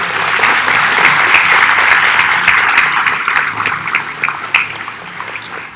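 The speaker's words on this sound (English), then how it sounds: "can we get another round of applause for all of our contestants?" A pageant audience applauds all the contestants after the Miss and Junior Miss winners are crowned: loud, full, continuous clapping from a sizable crowd that holds steady, then gradually thins toward the end.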